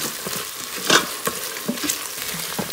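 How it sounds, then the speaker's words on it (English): Green chillies frying in an Instant Pot for vegetable pulao, a steady close sizzle with stirring scrapes and a few louder spatters, no voices. "Now add green chillies and fry these for another 2 minutes"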